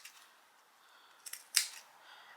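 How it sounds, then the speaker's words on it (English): Thread snips cutting into the seam allowance of fabric while sewing a bag, giving a few faint, close snipping clicks with one sharper cut near the end. "we're going to have to snip it in to the seam allowance"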